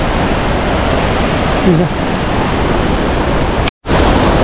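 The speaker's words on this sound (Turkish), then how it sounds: "şelaleye geldik. Antankoyo diye 2750 metre yükseklikte bir yer." Antankoyo waterfall at 2,750 metres, a steady, loud broadband rush of falling water filling the scene throughout, with a brief cut near the end and a voice speaking a single word.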